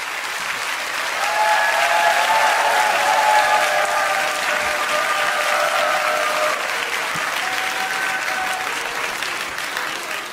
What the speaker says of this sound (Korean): 큰 박수로 격려해 주시면 감사하겠습니다